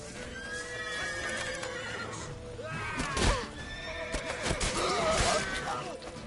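Horse neighing and whinnying in a video game, with hoofbeats clip-clopping along beneath, over a dense, busy game soundscape with brief shouted voices.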